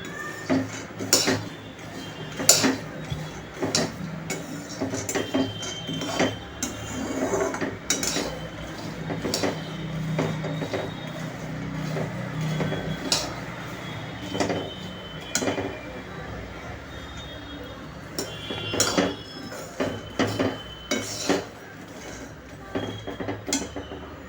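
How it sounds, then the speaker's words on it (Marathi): Peanuts roast over medium heat in an iron wok on a gas stove: repeated sharp metallic scrapes and rattling clinks of a spatula, close and uneven, with a voice talking at times. "मी इथे गॅसवरती लोखंडी कढई तापवलेली आहे आणि आता मी मध्यम आचेवर शेंगदाणे भाजून घेत आहे।"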